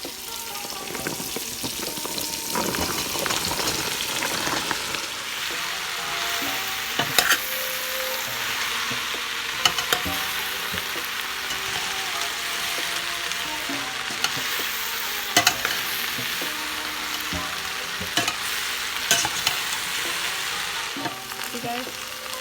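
Okra frying in a hot pan, seasoned with salt, pepper and garlic powder, with a steady close sizzle and scattered stirring clatters throughout.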